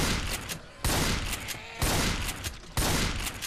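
Gunfire in the video game Left 4 Dead 2 comes as four loud, sharp blasts about a second apart, each trailing off into a noisy decay.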